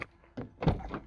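A single dull thunk like a car door closing, preceded by a couple of softer knocks and rustles, fairly close and brief.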